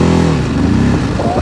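TVS RTR 310 motorcycle (2024) riding in a hard gear, its engine note revving steadily and close, loud and continuous over the short stretch.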